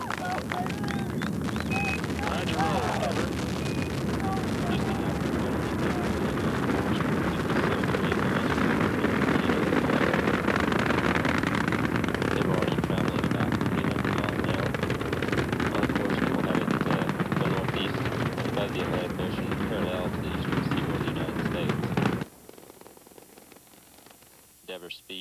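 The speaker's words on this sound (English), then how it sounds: "liftoff of the Space Shuttle Endeavour" Space Shuttle Endeavour lifting off, a loud, sustained broadband rocket roar with crackle that holds for over twenty seconds, then drops off abruptly to a faint rumble.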